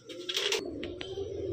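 A low rolling coo from a pigeon, a black chinni female kept with Malwai Punjabi birds, runs steadily throughout at moderate closeness, with a few brief higher flutters or scrapes on top.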